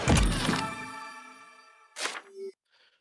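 A video game treasure chest effect blends a heavy physical clang and rattle with a bright musical chime, then a second short metallic hit and tonal ding before fading out.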